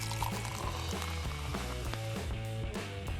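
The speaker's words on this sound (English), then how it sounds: "Pour Sprite into an empty spray bottle" Sprite being poured into an empty spray bottle: a steady liquid stream with gurgling, fizzy bubbling close up, continuing for a few seconds without talk.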